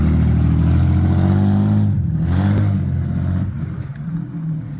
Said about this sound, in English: So he's just checking now that it actually changes gear and everything.